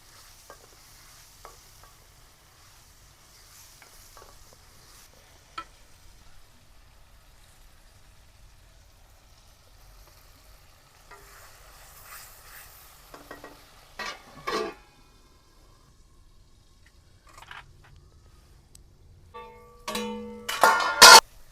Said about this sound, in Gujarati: ટમેટા હાવ સડી જાય, હાવ ગ્રેવી થઈ જાય ત્યાં લગી આપણે સડવા દેવાના.